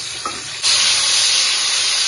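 A whole large tomato drops into a pan of hot oil with fried green chili, and a quiet sizzle bursts into a loud, sustained hissing spatter that stays close and steady with no talk.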